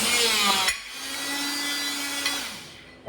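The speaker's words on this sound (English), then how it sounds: "Have you ever seen the hole punch in action?" A hole punch machine driving through 1/4 inch steel, heard as a loud, steady mechanical whine and grinding hum with a sustained tone, a short clunk near the start and another near the end.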